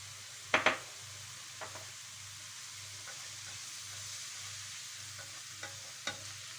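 Minced meat and onions fry in a pan for a Sarıyer börek filling. The sizzle is soft and steady, with a few sharp spatula clicks and scrapes near the start and end, and no voices.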